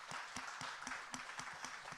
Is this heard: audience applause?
yes